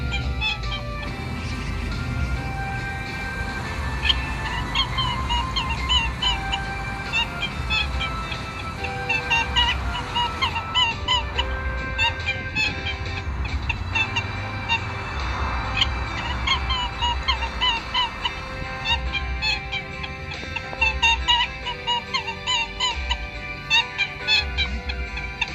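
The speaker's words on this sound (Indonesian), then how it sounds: "burung" Birds call and honk repeatedly in a busy, goose-like chorus, overlapping clucks and chirps continuing throughout at moderate loudness.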